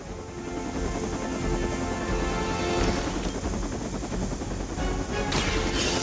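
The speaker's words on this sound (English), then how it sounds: "You've grounded the helicopter." A helicopter in Marvel's Midnight Suns fills the scene with a steady, loud rotor thrum and engine whine, with sharp bursts of gunfire-like cracks layered over it.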